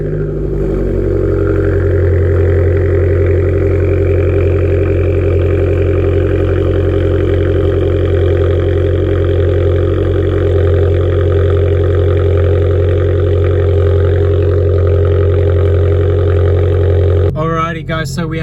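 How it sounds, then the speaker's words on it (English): An Abarth 595 engine idles on a cold start, a steady loud drone held near and continuous for the whole stretch, with a brief disturbance near the end. "As you can hear, the cold start is well and truly in progress"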